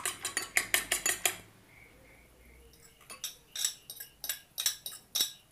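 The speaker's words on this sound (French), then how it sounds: "Il vous faudra aussi 2 œufs entiers battus avec 2 gousses d'ail râpées et 1 pincée de sel. Bien battre et mettre de côté." Eggs beaten in a bowl with grated garlic and salt, a fork or whisk clinking rapidly against the dish in quick bursts, a short pause, then another run of close, sharp taps.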